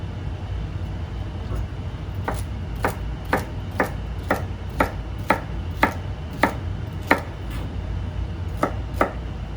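Celery chopped with a knife on a cutting board for a shrimp cocktail, a run of about a dozen sharp, evenly spaced chops growing louder and steadier, set over a low background hum.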